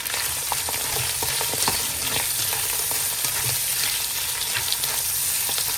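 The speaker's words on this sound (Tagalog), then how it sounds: "I-fry natin yung ating prawn at saka yung ating fish cake." Prawns and fish cake frying in a pan, a steady close sizzle and hiss throughout with occasional clicks and scrapes of stirring, and no talk.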